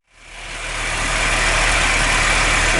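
A Volkswagen Golf Mk2 1.8 with a Pierburg carburettor runs at fast idle, a steady, close, unbroken engine drone that rises over the first second and then holds level throughout, with no voices.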